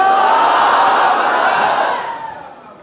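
A large conference crowd in Sargodha roars together in a loud, sustained chant that swells and then fades out toward the end, with no single voice standing out.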